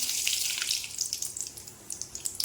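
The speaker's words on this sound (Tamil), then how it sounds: "கடுகு பொரியுது" Mustard seeds splutter in hot oil in a pan, giving a dense, continuous crackling hiss with scattered sharp pops, close and fairly loud, with no voices.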